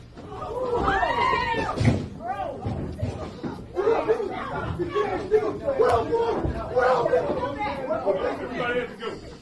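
A brawl erupts in a Detroit courtroom as a murder victim's father attacks the defendant: loud overlapping shouting and commotion, scuffling thuds and slaps amid a chaotic crowd of voices throughout.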